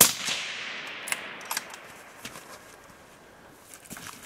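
A rifle or shotgun fired outdoors at a beaver in the water during a hunt, a sharp, distant-sounding report at the start followed by a few fainter cracks and light rustling, with no talking.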